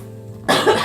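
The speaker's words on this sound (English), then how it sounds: "I'm gonna cough." One loud, close cough that breaks abruptly out of quiet background hum and rasps on for a moment.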